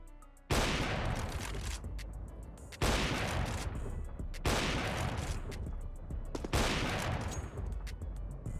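Bursts of rapid automatic gunfire from the video game CS:GO, four loud sustained volleys each starting with a sharp attack and rattling on for a couple of seconds, with brief gaps between them.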